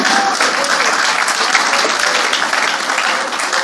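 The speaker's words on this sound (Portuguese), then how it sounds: "Pode aplaudir ele." A church congregation applauds during a pastor's sermon: dense, steady clapping from many hands fills the whole stretch at an even level, with no voices over it.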